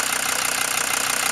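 A 1979 Mercedes-Benz 5-cylinder 3-liter non-turbocharged diesel idles close up, a loud, even, rapid knocking clatter with a steady rhythmic pulse and no talk.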